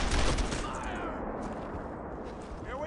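Sustained gunfire crackles through a World War II squad battle in the Brothers in Arms video game, rapid bursts overlapping in a dense, continuous volley with no clear pauses.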